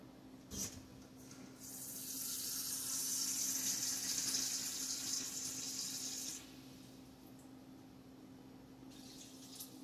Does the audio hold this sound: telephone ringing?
no